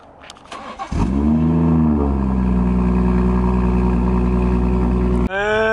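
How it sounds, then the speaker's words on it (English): A BMW 340i engine cold starts with a short cranking whir, catches, and settles into a loud, steady high idle close by, droning evenly before a brief cut at the end. "Let's see the cold start on the 340."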